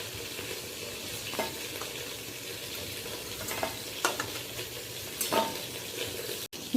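Vegetables frying in oil in a kadai for a Bengali birthday thali, a steady close sizzle with occasional stirring scrapes, no voices.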